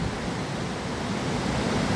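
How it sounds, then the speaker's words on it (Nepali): The Sapsu river in Nepal rushes past in a steady, dense roar of flowing water that fills the whole moment evenly and close by, with no voices. "यो तपाईहरुले देखिरहनु भएको चाहिँ साप्सु खोला हो"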